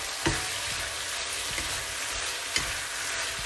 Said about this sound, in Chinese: 将甜面酱和肉翻炒一下，将菜椒倒进去。